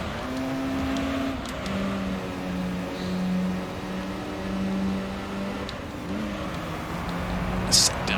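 Racing car engines from Gran Turismo 3 drone and rise in steady, overlapping tones as cars jostle and overtake, the pitch climbing and dropping through gear changes at constant loudness.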